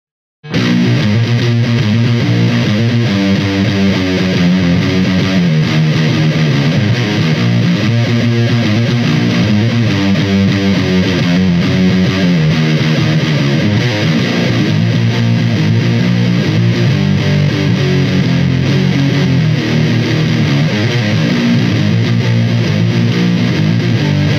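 A heavily distorted electric guitar through a TC Electronic Röttweiler distortion pedal with treble cut plays continuously, loud and dense, with a dark, muffled, woolly tone lacking bright treble.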